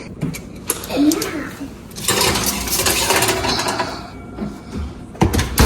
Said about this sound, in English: So let's put these in the oven.